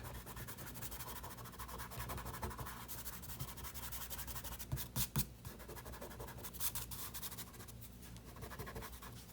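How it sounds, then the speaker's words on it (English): Pencil lines on paper being smudged during a hand-and-apple drawing, a faint continuous rubbing and scratching with a few soft taps, close and quiet, no talk. "let's just smudge out some of these lines just to make this look a little more realistic"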